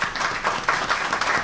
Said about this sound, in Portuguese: Eu quero pedir uma salva de palmas, deputado Luiz Paulo.